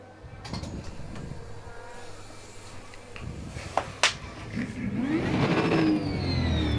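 An Aquila CR1 race car in Raceroom Racing Experience at Hockenheimring idles with a low drone, a couple of sharp clicks cutting through, then the engine revs up, its pitch climbing and growing louder toward the end.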